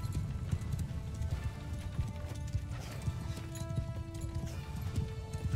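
Many cavalry horses, about 260 horse archers, gallop together in Mount and Blade 2: Bannerlord, a dense, continuous drumming of hooves with a deep rumbling undertone and faint tonal game effects layered above.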